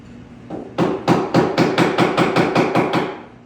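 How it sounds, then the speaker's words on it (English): Notches stamped into a workpiece for a pool cue, a fast run of about a dozen sharp metallic hammer strikes in a steady rhythm, loud and close with nothing else heard. "So, I just went and stamped those two little notches in, right there and right there."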